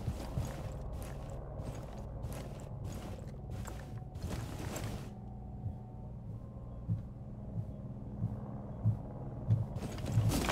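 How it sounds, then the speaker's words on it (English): Heavy player footsteps thumping on the floor above in Rainbow Six Siege, a run of rapid dull stomps early on, then quieter scattered thuds and low game ambience, no talking. "Dude above me stomping like a fucking elephant right now."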